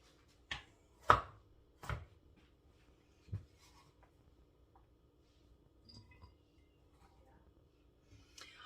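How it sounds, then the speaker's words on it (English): Knife chopping fresh ginger on a board, a few sharp separate cuts followed by quieter scattered taps, close and otherwise quiet. "So chop it up."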